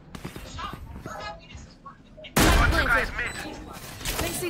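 Odin machine gun fire in a Valorant match: a sudden loud burst of rapid shots after quieter footsteps and game sounds, followed by more close gunfire.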